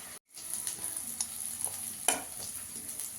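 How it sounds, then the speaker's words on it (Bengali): Bengali spice paste with chilli powder stir-fried in a pan for fish kalia: a faint, continuous sizzle with soft scraping and clinks of the spatula, and no voices. "মশলাটাকে ভালো করে একটু কষিয়ে নেব"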